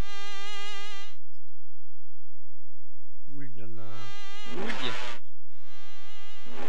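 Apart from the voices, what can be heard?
mosquito boss buzzing in the video game Rayman 1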